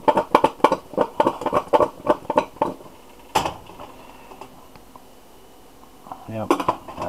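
Roast potatoes flipped in a lidded pan, giving a quick run of sharp metallic clinks and clatters from utensil and pan, then a lone knock and a quieter pause, with a short voice near the end.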